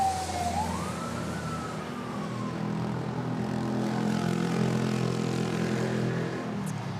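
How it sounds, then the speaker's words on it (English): A Cebu Pacific Airbus A320neo on final approach into Manila gives a steady low engine hum with a whining tone that climbs early on and then slowly drifts down, moderately distant and continuous. "Right now, there is a Cebu Pacific A320neo on final approach arriving from Katiklan."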